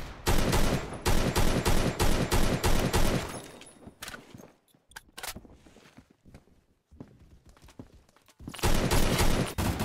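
Rapid automatic gunfire in the video game Phantom Forces, fired in fast, tightly spaced bursts. Loud close volleys open and close the stretch, with quieter scattered shots and footsteps between them.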